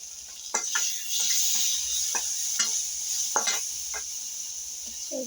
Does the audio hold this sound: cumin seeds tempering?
yes